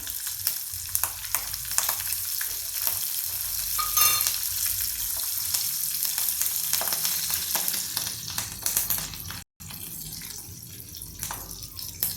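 Green chillies sizzle loudly in hot oil for a tempering, a dense continuous crackle with faint stirring and one brief drop-out near the end.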